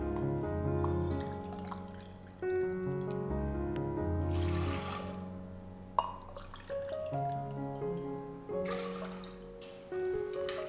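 Water poured from a cup into a cooking pot of dal makhani with ginger garlic paste, a light splashing trickle running under steady background music for several seconds.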